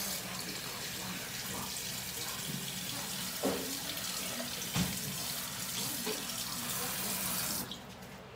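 A small Minecraft figure gets washed under a running tap, with a steady, close stream of water splashing into a sink. The flow runs unbroken for several seconds with a few brief knocks, then cuts off near the end.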